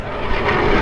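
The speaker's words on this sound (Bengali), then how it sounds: "fighter jet" Loud, steady roar of two fighter jets passing overhead above a city flyover, a broad continuous rumble filling the whole stretch.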